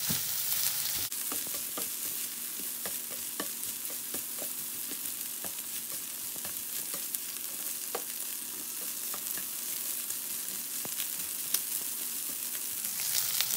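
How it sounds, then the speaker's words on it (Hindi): Steady, close sizzling of shrimp frying in butter and garlic in a hot pan, with scattered pops and crackles throughout and no talking. "बस तो एक मिनट और इनको फ्राई करेंगे और निकाल लेंगे"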